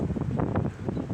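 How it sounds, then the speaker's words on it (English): Wind gusts buffet an outdoor microphone in a continuous low rumbling roar with irregular surges, loud and close, with no talking. "Yeah, it's windy today."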